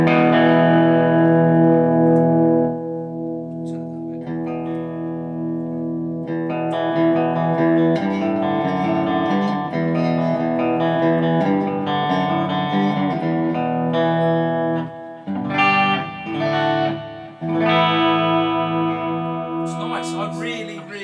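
Dean USA Custom Shop 92/93 ML electric guitar with passive pickups, lead pickup on a gritty clean tone, plays ringing sustained chords and notes with short gaps, loud and close, with no talking over it.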